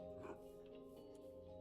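Minecraft dogs in a survival multiplayer game, a faint whimpering yip with a tonal whine, heard briefly and quietly under the game's sounds.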